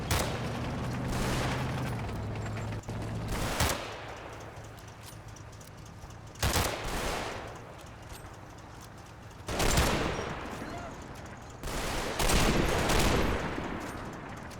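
Gunfire and machine-gun bursts from the Combat Mission war game, Operation Epsom on the road to Cheux: several loud broadband volleys break out at intervals over a steady low battlefield rumble.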